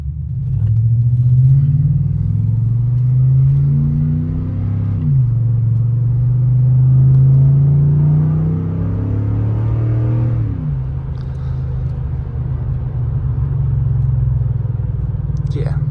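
A 2012 Ford F-150 with an ARH catback exhaust on stock headers, catalytic converter and Y pipe gives two deep, close revs that rise and fall back to a rumbling idle with burbles.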